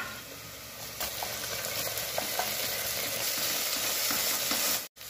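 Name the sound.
ginger garlic paste frying with onions and spices in ghee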